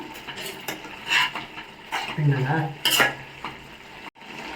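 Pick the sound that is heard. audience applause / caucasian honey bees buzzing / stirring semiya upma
stirring semiya upma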